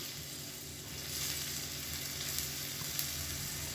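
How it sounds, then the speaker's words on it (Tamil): Onion frying in hot groundnut oil, a dense steady sizzle that swells slightly after a second, with faint stirring taps, close and without voices. "இப்போ எண்ணெய் நல்லா சூடானதும் மீடியம் சைஸாக ஒரு வெங்காயம் சேர்த்துக்கலாம்."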